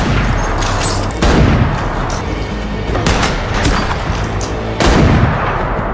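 Gunfire in The Last of Us as Joel holds off bandits: loud, dense bursts of shots and booming reports, with several heavy blasts punctuating continuous rattling fire.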